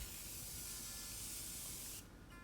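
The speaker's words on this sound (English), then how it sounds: "I'm gonna hit my face one more time with the setting spray." Makeup setting spray mists onto a face in one continuous close, loud hiss lasting about two seconds, then cuts off into faint room noise.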